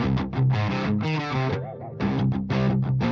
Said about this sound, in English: This is awesome for like overdriven breakup tones.